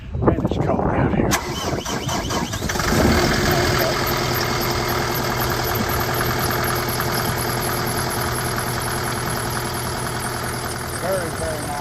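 Kubota SVL97-2 track loader (2022) diesel engine cold-started outdoors in the cold: a brief crank catches into a loud, steady rough idle that runs on continuously, with people talking faintly over it.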